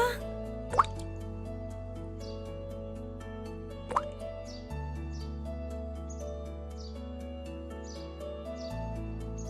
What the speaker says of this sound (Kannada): ಶುದ್ಧ ನೀರು ಹ್ಯಾಂಗ್ ತೊಟಿಕ್ತೈತಿ